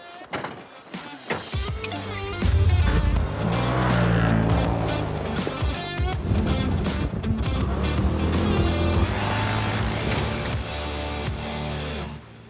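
A loud off-road vehicle engine revs and roars as it drives hard off-road in South Dakota, pitch rising and falling with acceleration, close and continuous.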